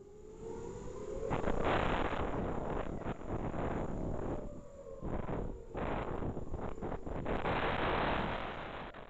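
Loud wind buffets the microphone in rough, roaring gusts, nearly drowning out a faint air-raid siren wailing underneath, in Israel during an Iranian attack.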